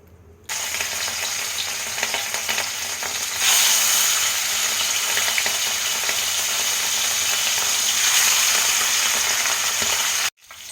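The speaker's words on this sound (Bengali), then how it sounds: "এবার আমি মাছগুলোকে ভেজে নেব" Fish pieces frying in hot oil give a loud, steady sizzle, close and continuous, swelling a little partway through and then cutting off abruptly near the end.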